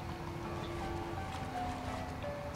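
A waterfall in the video game Bloodstained gives a steady, faint rushing wash of water with a few quiet tonal game sounds drifting over it.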